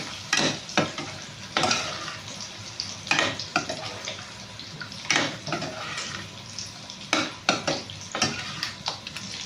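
Egg and drumstick curry being stirred and mixed in a pan, a bubbling sizzle punctuated by repeated scraping and clanking strokes of a spoon against the pan in an irregular rhythm, close, without speech.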